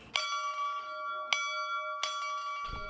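A large hauled bell rings at a high school football game, struck three times at a steady pace, each clear metallic strike ringing on with long sustain.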